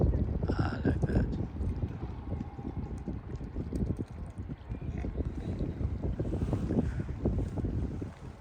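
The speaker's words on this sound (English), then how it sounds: "Somebody's driving the boat." A boat moves along the River Avon at Stratford-upon-Avon, a low rumbling wash of engine and water under heavy wind buffeting the microphone, steady throughout.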